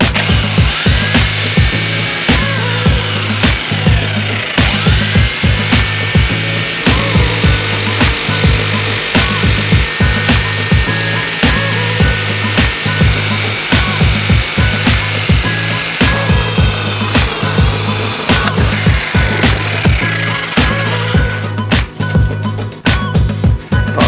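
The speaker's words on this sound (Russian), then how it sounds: "Продолжаю пилить." Steady hand sawing through wood while building a hovercraft, a loud, close, rhythmic back-and-forth rasp of regular strokes that continues without pause, with no talking.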